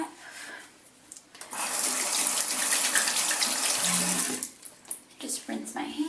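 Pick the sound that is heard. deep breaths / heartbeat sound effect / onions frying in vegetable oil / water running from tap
water running from tap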